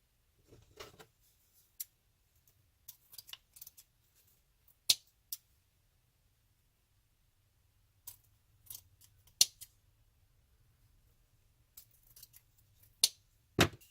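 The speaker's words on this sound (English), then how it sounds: "So I'm just gonna clip where I have loops." Sharp scissor snips cut ribbon, a dozen or so crisp, close clicks scattered irregularly across a quiet room with no talking.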